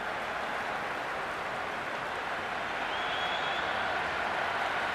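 Dense, steady roar of a large cricket crowd cheering and applauding at an IPL final between RCB and GT, a continuous wash of noise throughout with no single voice standing out.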